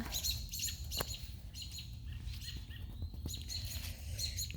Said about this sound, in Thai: ได้ยินเสียงนกไหมน่ะน่ะเหมือนแม่มาร้องหาลูกอีกละ